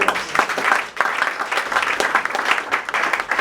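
An audience applauds at the Makers Forum 2019 event, loud, dense clapping in surging waves that dip briefly before swelling again.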